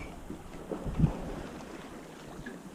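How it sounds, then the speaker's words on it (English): A sailboat runs under wind with nobody steering, giving a low rushing wash of water and wind buffeting, steady and moderately loud with a brief swell of gusty rumble partway through, and no voices. "We're sailing on the wind."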